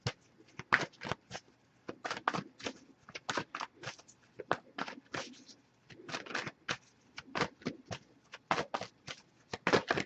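A pre-shuffled oracle card deck is shuffled and riffled close by, with quick, irregular bursts of crisp flapping card noise and short pauses between them, with no voice over it.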